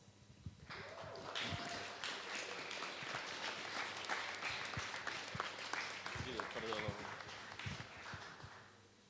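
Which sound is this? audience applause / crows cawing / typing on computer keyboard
audience applause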